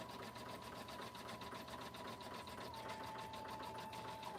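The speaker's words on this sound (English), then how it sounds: "while that's stitching, you see how it's stitching now?" A sewing machine at a quilting session stitches steadily, its motor hum and rapid needle rhythm continuous and close for the whole stretch, with no one talking.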